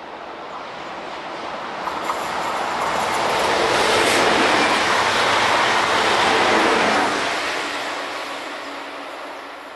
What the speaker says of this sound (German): das war der ICE S